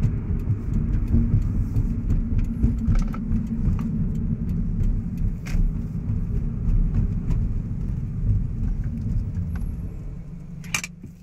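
A Subaru BRZ running on gas slows and pulls over into a subdivision, its engine a low steady rumble with road noise that eases toward the end, alone without talk.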